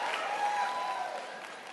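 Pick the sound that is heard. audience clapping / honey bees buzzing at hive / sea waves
audience clapping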